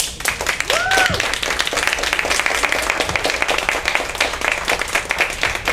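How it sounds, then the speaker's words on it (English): A live audience gives a round of applause, steady clapping filling the whole stretch at close range, with a brief whistle-like tone early on. "Thank you for the round of applause."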